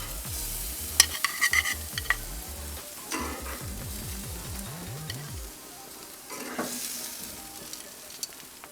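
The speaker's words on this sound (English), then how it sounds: "While Sha was grilling the skewers" Beef, chicken and lamb satay skewers sizzle and crackle on a grill, a steady close frying hiss with a few sharp clicks and scrapes of turning skewers.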